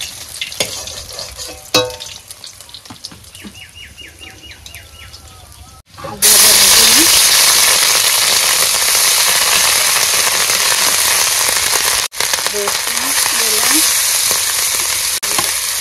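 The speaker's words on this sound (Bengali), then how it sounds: "মাছ ভাজা হয়ে গেছে, মাছ করা তুলে এবার বসাই দেবো ঝোল, মাছের ঝোল।" A pan of fish curry sizzles on the stove after the fish has been fried. Quiet talk and clatter come first, then a loud, close, steady frying hiss bursts up and carries on.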